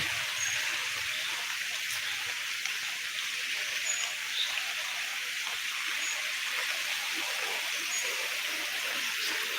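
Steady, even hiss of rain falling in wind, close and unbroken, a dense wash of sound with no voices.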